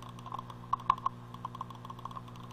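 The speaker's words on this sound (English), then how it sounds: "It makes a hell of a lot of clicking noise" An old wired computer mouse clicked repeatedly up close, giving sharp, faint clicks in an irregular pattern over a steady low electrical hum.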